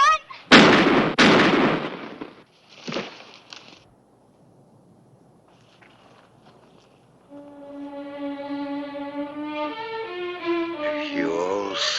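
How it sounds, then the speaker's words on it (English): Gunfire in a shootout from an American Western television series: several sharp, loud shots in quick succession near the start, another burst soon after, then quiet before dramatic music swells. "Look out, Clay, he has another gun!"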